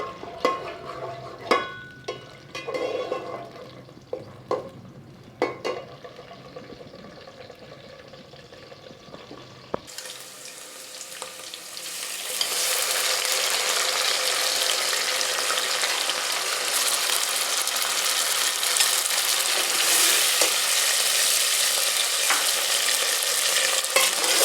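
Onions softening in hot oil for a macaroni dish: a few utensil scrapes and clatters at first, then a loud, steady, close sizzle of frying that holds to the end.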